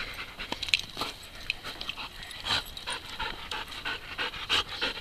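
A happy dog pants in quick, uneven breathy puffs close by, with a few light snuffles, continuing steadily without talk.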